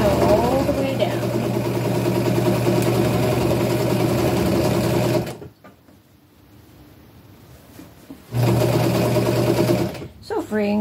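A sewing machine stitches a hem down a folded shirt, running steadily and loudly for about five seconds, pausing, then starting again for two more short runs.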